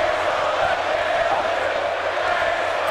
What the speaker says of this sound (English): The crowd cheering for Bray Wyatt